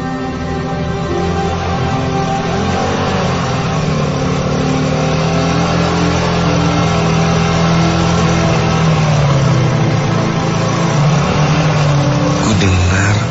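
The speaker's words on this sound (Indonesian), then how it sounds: "ada bunyi sepeda motor" A motorcycle engine hums steadily at night, a continuous mid-pitched drone that swells slightly as the bike draws nearer, with the pitch gliding as it changes speed.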